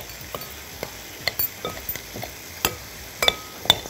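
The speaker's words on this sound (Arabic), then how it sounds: "عايز يتقلب اخر تقليبه." A spoon stirs a sauce of olive oil in a pan on the stove, giving irregular scraping clinks and soft sizzling with sharp taps against the metal, close and fairly quiet.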